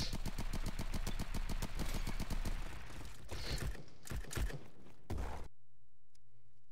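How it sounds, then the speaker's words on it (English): Rapid automatic gunfire in the Roblox shooter Bad Business: a dense rattling burst of shots for about three seconds, then a few slower mechanical clicks and clacks of a magazine being inserted and the weapon racked, ending abruptly in silence. "Why do you have to like put the magazine in so slow, man?"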